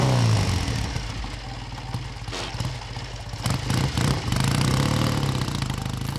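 A Triumph Bonneville T120 motorcycle engine from 1959 runs close by, a loud throbbing idle that swells with a few revs midway before settling back to a steady rumble.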